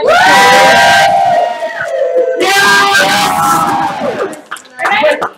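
A live game show audience lets out loud whoops and yells in two big swells, close and energetic, then fades into scattered shouts.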